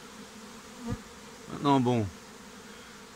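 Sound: honeybee swarm buzzing at an apiary

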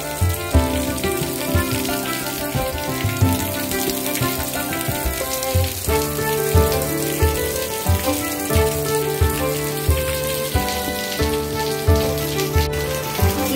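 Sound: heavy rain

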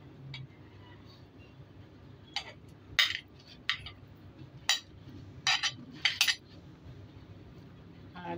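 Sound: mixing salted egg, fruits and vegetables in a bowl

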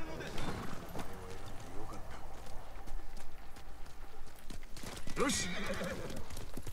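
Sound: horse neighing and hooves in the video game Ghost of Tsushima

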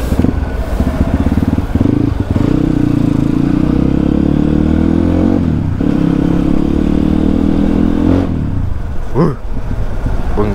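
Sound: motorcycle engine revving

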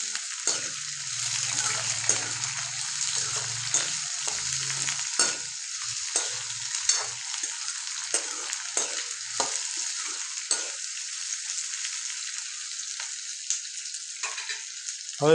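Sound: stirring besan into capsicum curry in a pan

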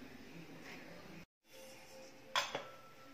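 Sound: pan being placed on the stove

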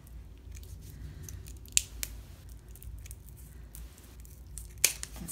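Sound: scissors snipping a command strip in half

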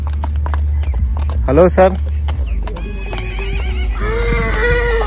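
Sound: horse hooves clip-clopping and neighing at horse fair

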